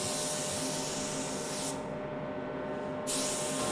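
A spray gun lays a sealer coat over a custom metallic car paint job, giving a steady, close, continuous airy hiss for the whole stretch with no talking.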